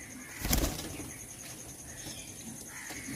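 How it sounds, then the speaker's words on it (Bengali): A pair of pigeons released by hand, with a brief burst of wing flapping near the start against a quiet background and soft faint rustles afterward. "তো চলো পায়রা দুটো ছেড়ে দেখিয়ে দিই"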